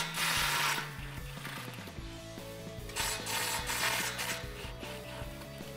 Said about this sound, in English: grab your 16 millimeter socket and disconnect these two bolts